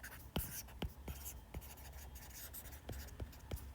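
Pen writing equations on paper, faint quick scratchy strokes and taps in short bursts with pauses between them, close and quiet in a still room.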